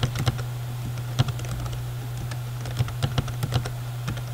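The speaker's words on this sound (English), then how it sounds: "you have to type in the full path" Fingers type on a computer keyboard while entering commands in a terminal, producing close, irregular key taps over a steady low electrical hum.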